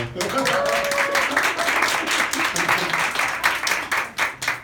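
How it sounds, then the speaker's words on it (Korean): A church congregation claps as the pastor arrives at a Bible lecture, a brisk burst of hand claps mixed with chatter and voices, the clapping strongest early and thinning toward the end. "박수 치세요. 오셨어요"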